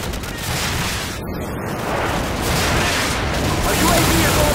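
Airstrike explosions and gunfire from Call of Duty 4 form a loud, continuous roar of overlapping blasts and crackling shots that swells slightly toward the end.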